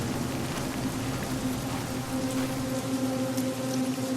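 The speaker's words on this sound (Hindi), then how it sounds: "कुछ देर चलने के बाद बारिश होने लगी" Steady rain falling and pattering on a surface, a continuous dense hiss with a faint low hum underneath.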